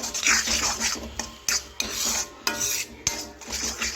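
A utensil scrapes and stirs egg fry around a pan, with rhythmic rasping strokes and occasional sharp metal clinks against the pan.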